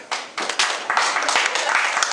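Comedy club audience at a top comic finals breaks into clapping, a dense wash of many hands that starts abruptly and builds into sustained applause, fairly close and loud.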